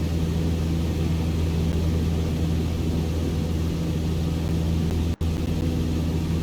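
Cessna 152 engine droning steadily after takeoff in a flight simulator, a loud continuous hum with low tonal rumble and one brief dropout near the end.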